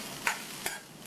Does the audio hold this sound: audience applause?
no